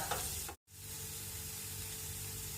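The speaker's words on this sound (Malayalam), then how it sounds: "ഇപ്പൊ ഇതെല്ലാം ഒന്ന് ഫ്രൈ ആക്കി എടുക്കാം" Brinjal pieces with a green chilli frying in a pan, a steady close hissing sizzle that breaks off for a split second and then carries on evenly.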